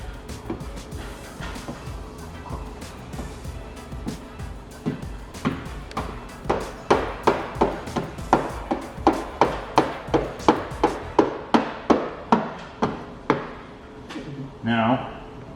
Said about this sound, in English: we're gonna start working from the back to the front, overlapping the squeegee strokes